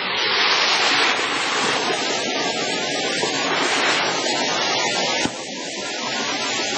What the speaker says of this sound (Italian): Questa è la cascata.